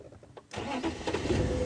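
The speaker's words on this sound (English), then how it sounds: "I'm just going to move the vehicle quickly" A safari game-drive vehicle's engine cranks briefly and then catches, running at a steady, close idle in the open bush.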